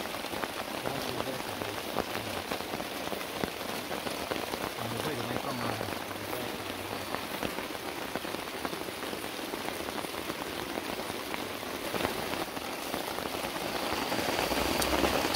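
Heavy rain pours on a campsite tent on a jungle hike, a dense constant hiss of drops drumming the surface that builds slightly toward the end, with faint voices underneath.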